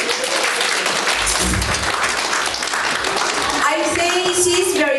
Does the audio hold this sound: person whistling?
no